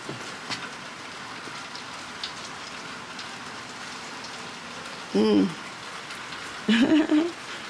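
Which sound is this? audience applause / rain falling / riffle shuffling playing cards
rain falling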